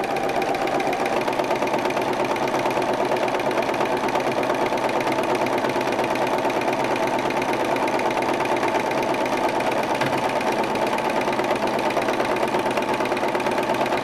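A sewing machine stitches thread painting on a bug bag with variegated thread, a steady, fast, loud mechanical whir and needle chatter running continuously throughout.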